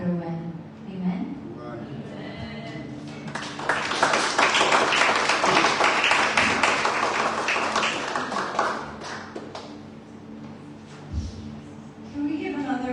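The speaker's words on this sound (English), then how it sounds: "Can we give another round of applause?" A church congregation applauds in a sustained swell of clapping, rising loud and dense for several seconds before fading, with talk and music-like tones around it.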